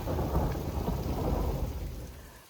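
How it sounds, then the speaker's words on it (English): Heavy rain with rolling thunder on a trail hike, a steady loud wash of downpour under a low continuous rumble, close and enveloping with no talking. "you can probably hear it's still thundering"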